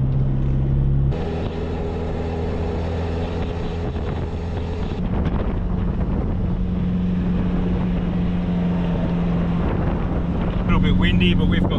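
Wind buffets the microphone on a beach by a calm lake, a steady broadband rumble with low engine-like drone running throughout, louder gusts near the start and end.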